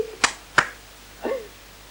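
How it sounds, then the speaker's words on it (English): Two sharp hand claps a third of a second apart give a command to a dog, followed by a short, soft vocal sound, all close and fairly quiet. "Right, go away is 2 claps."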